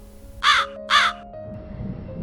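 Two loud, harsh crow caws ring out in an animated story, spaced about half a second apart, followed by a quieter low background.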